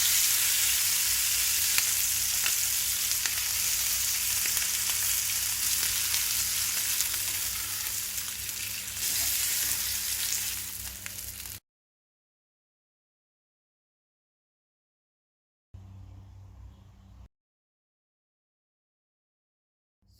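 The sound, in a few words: chicken frying in a little oil in a pan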